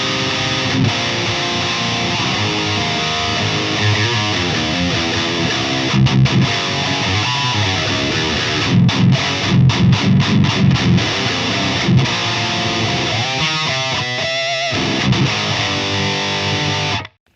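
A distorted electric guitar plays through a Jensen C12K2 speaker, loud and continuous, with sustained chords broken by choppy palm-muted bursts and a final fast riff before it cuts off.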